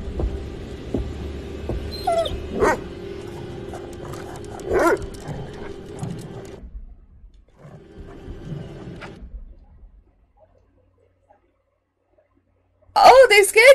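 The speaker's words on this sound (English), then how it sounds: "It's a dog!" Dog growling and barking in the horror video game The Devil in Me, low rumbling growls and sharp barks over a droning hum, with people talking over parts of it and a loud burst at the end.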